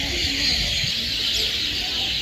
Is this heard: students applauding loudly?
no